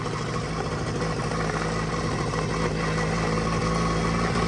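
A Suzuki LT 50 ATV's small engine runs steadily and close by, holding a constant buzzing drone at an even pitch without revving up or down.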